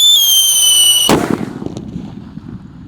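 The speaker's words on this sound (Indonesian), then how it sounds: "Kita dengarkan suaranya mercon Rambo." A large Rambo firecracker set off in the middle of a rice field: high whistling tones give way to one loud, sharp blast, followed by a rolling echo that slowly fades.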